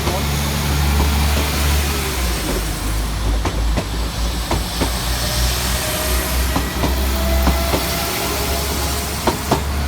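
West Midlands Trains class 172 diesel unit running on the line near Cradley Heath, a loud continuous rumble with rail clicks and wheel squeal, heard close by.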